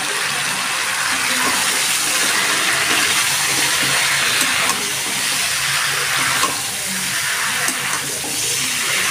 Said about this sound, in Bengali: আমি দিয়ে দিচ্ছি জল।